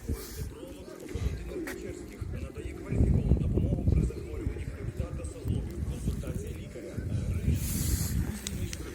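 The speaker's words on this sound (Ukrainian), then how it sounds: "Голуби." Pigeons coo nearby in a park in Truskavets, Ukraine, in low, throaty, repeated bursts over a steady murmur of outdoor noise, with a few faint rustles.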